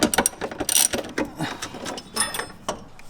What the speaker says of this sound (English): we're going to remove this bolt attaching this bracket to the tub using a 13mm socket